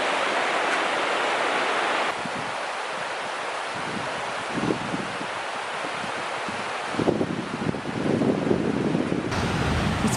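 A small waterfall on a mountain trail in the Great Smoky Mountains gives a steady broadband rush of falling water, close and continuous. Wind buffets the microphone throughout.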